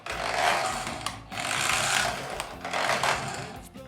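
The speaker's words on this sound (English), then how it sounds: "It sounds like a cheap Banggood lawnmower trying to start." A toy Porsche 911 car with broken gears grinds and whines in loud, rough bursts, three main surges with brief dips between, harsh like a small motor struggling, heard alone without talk.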